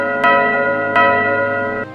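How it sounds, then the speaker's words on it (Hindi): A brass bell rings by itself in a horror tale, three resonant metallic strikes about three-quarters of a second apart, each leaving a long humming ring, loud and close. "छत से एक पीतल की घंटी झूल रही थी और अपने आप बज रही थी।"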